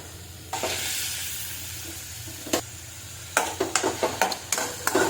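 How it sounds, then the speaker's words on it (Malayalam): Steady sizzling of paneer frying in a pan, with occasional sharp crackles and stirring scrapes, no voices. "ശേഷം നമുക്ക് പനീർ വറുത്തെടുക്കാം"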